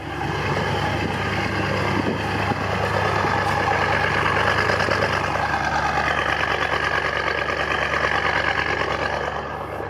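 A BMW M550 engine idles steadily while the car runs its oil level check, a close, even, continuous rumble with a faint whine above it and no speech.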